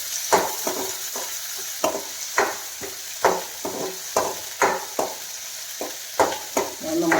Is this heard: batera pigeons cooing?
no